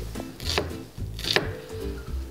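A knife strikes a wooden cutting board, chopping tomatoes. A few sharp, close chops come at irregular intervals, with quiet shuffling of the pieces between them.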